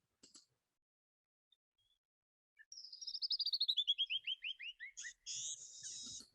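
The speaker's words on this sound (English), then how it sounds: "this is the sound of a Mexican bird" A Mexican bird calls in a rapid descending series of bright, clipped notes, followed by a few harsher chirps, heard clearly against near silence after a couple of faint ticks.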